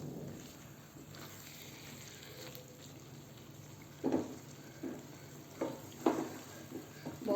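Mixed vegetables with grated topping are stirred in a pan for mix veg sabzi, a faint soft sizzle and scrape under low background noise, with a few light clinking knocks of a spoon near the end.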